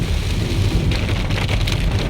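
A heavy morning thunderstorm in Occidental Mindoro: dense, close rain pattering on surfaces with a deep, continuous rumble of nearby thunder underneath, loud and steady throughout, with no voices.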